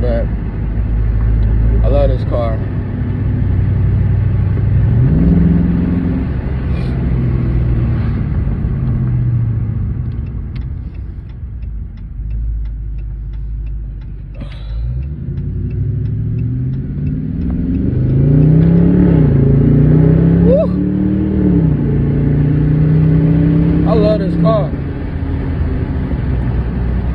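A brand new Dodge Charger RT engine rumbles while driving, with repeated rising pitch as it accelerates through gears, fairly loud inside the car, with someone talking over it at times.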